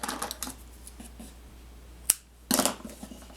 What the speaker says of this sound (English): Let's trim off the excess.